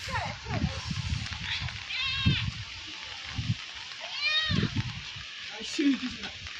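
Goats seen by roadside travelers in Munnar, Kerala give a few wavering bleats, one around the middle and another louder a bit later, mixed in with people chattering nearby.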